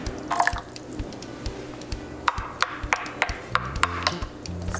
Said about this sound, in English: I'm gonna add some cold water to this cold rice